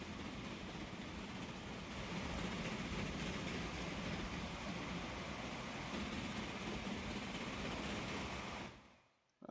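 A train runs in the Transport Fever railway simulation game, a steady, loud rolling rumble that holds evenly and then cuts off abruptly at the end.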